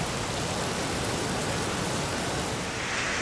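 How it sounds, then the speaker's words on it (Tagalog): Steady rain pours down in a back alley behind a hotel in Singapore, a dense, constant hiss with no breaks and no voices. "Maghapon talaga tong ulan na to."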